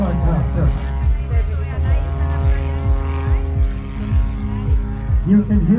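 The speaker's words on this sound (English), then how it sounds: "You can hear the roar of that engine." A Lycoming-powered aerobatic airplane roars steadily while holding a nose-up hover at an airshow, the loud sustained engine note swelling and pulsing rhythmically with harmonic sweeps, a commentator's voice running over it.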